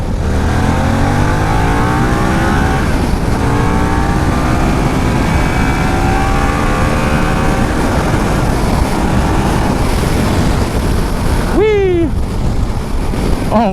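A motorcycle accelerates hard onto a freeway, its engine roar blending with heavy rushing wind noise that stays loud and steady throughout, with a brief rising chirp near the end.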